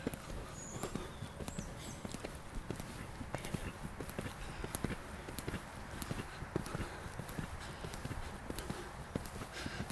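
Horse hooves drum in a steady galloping rhythm on a riding surface during a training session, close and moderately loud, with a trainer's voice briefly heard over the footfalls.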